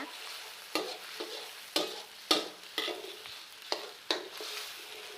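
Southern Thai curry paste loosened with water is stir-fried in a pan, a constant low sizzle broken by about eight sharp spatula scrapes and knocks at uneven intervals, close and fairly quiet.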